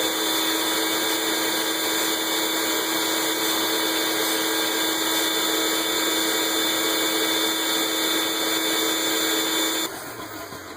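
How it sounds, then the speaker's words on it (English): A shop vacuum runs continuously, drawing suction through a dust collector bucket, giving a steady, loud motor whine that drops in level just before the end. "I'm going to turn the vacuum on again and see what happens inside this bucket"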